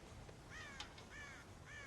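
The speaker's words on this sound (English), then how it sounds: "God damn crows!" Crows caw on a farm in the Red Dead Redemption video game. Several harsh caws come in a loose sequence, fairly faint and distant, over a steady outdoor background hiss.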